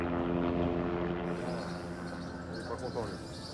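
A helicopter brought in by mine owners to the Colombian emerald mines hums with a steady rotor drone, heard under a voice speaking over it.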